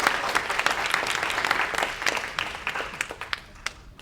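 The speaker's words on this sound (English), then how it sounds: "let's give her a great round of applause." Audience applause at a wellness symposium in Portland, steady clapping from a crowd that gradually thins and fades over a few seconds.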